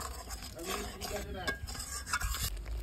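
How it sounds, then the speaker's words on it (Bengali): Palak paneer masala being stirred and fried in a pan, a close, quiet sizzle with soft scraping and clinks of a spoon against the metal pan, irregular strokes throughout. "দিয়ে একটু ভালো করে কষিয়ে নেব। 5 মিনিটের মতো আমি একটু নাড়াচাড়া করে নেব।"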